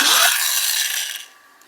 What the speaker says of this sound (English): This is the sound of the motor.